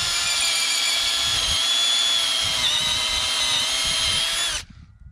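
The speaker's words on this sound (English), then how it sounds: "By just trimming down each drill bit as we go in, to get a nice cone-shaped hole" A power drill bores a cone-shaped hole into a wooden fence post, a loud steady high-pitched whine running continuously for over four seconds before cutting off abruptly.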